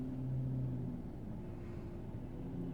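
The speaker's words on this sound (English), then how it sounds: "Very loud car." A very loud car rumbles past in a low, steady engine drone that holds for a few seconds and fades slightly, with no voices.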